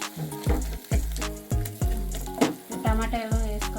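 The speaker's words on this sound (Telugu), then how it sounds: "ఉల్లిపాయలు వేగిన తర్వాత వేసి టమాటా వేసుకోవాలి." Onions frying in a pan for a tribal wild flower curry, a close sizzle broken by repeated scraping stirs of a spoon against the pan, with no voices.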